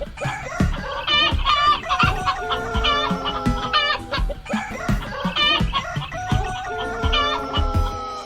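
Chickens from the animated film Chicken Run cluck and squawk continuously with rooster-like calls, busy overlapping barnyard fowl sounds that stay loud and dense throughout, with no speech.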